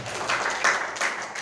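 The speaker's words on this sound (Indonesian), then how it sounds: "tepuk tangan untuk kelompok 2" A student group in a classroom lesson gets a short burst of applause, a few seconds of scattered clapping that fades quickly.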